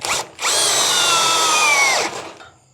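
EMTOP 55 Nm compact two-mode cordless drill running in drill mode, a steady high whine boring into wood for about two seconds after a brief spin-up, then winding down, close and loud with no talking.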